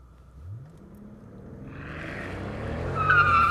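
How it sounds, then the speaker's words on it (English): A Mercedes-Benz CL65 AMG launches from a standstill, its engine note rising and building steadily from low rumble to a stronger roar, with a brief tire squeal of slight wheel spin near the end, heard from inside the car. "Okay, little wheel spin."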